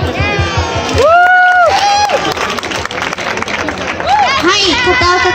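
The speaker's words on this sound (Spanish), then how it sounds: "Un aplauso." Audience applause and cheering for a costumed participant at a cosplay event, a loud, lively crowd burst with clapping that lasts several seconds, with voices calling out over it.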